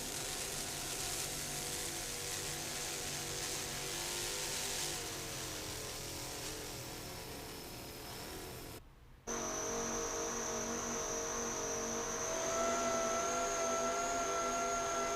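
A cigarette-style offshore racing powerboat with 1,100-horsepower supercharged Cobra engines hums and whines steadily on flat water, a continuous loud drone that briefly cuts out, then returns with a rising tonal whine.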